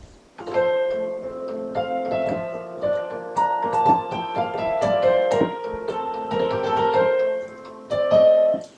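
Piano playing a short passage of several measures from Für Elise, a steady melody over chords, clear and close with no voices.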